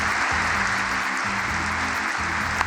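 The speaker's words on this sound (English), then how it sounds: "Take the clapping." Applause at a State of the Union address in a large chamber, a steady wash of many hands clapping continuously, moderately loud and distant, with no talk over it.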